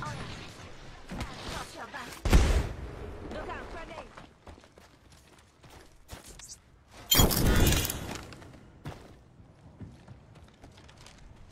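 A thrown grenade bursts in a ranked Legends match, two sharp, loud booms several seconds apart amid game noises and mechanical clicks, while a player talks over the action.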